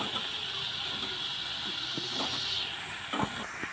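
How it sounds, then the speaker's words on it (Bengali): Pumpkin and potato frying in a pan with spice paste give a steady, close sizzling hiss throughout, with a few brief stirring clatters near the end. "কুমড়ো আলুটা দিয়ে একটু কষে নিয়েছি"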